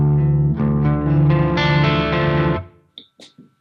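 Electric guitar played through the clean channel of a Soldano SLO-30 amp with the bright switch on, ringing chords sustained for over two seconds, then a few short plucked notes that fade out, close and loud with no talk.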